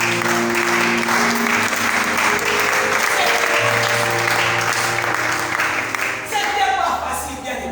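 A church congregation at an Easter service claps and cheers in sustained, loud applause that stays dense throughout, with sung or spoken voices running underneath.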